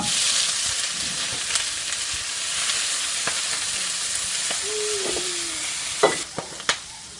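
A steady loud sizzle of stir-frying Chinese kale with garlic fills the scene, with occasional clinks and scrapes of a spatula against the pan near the end.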